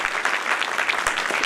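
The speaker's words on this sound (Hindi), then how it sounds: "जोरदार तालियां इस बार" Audience applause in a hall, dense steady clapping from many hands throughout, fairly close and even in level, with no talk over it.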